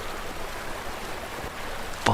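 River rushing over a small waterfall in the video game Far Cry 4, a steady broadband water roar with a brief sharp splash or impact right at the end.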